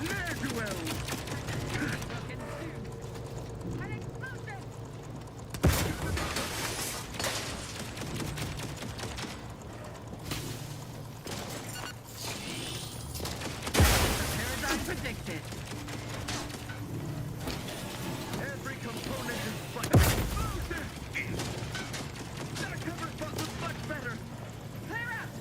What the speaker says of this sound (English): They're fighting their own turrets.